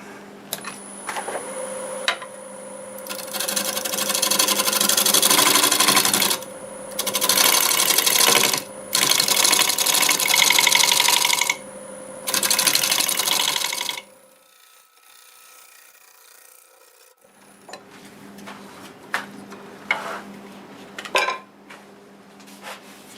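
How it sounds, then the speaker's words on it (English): A wood lathe turns a sweet gum piece while a negative rake scraper works it, giving loud sustained scraping and whirring in several bursts with short pauses, then a quieter stretch of lighter tool contact near the end. "Use a negative rag scraper to blend it in."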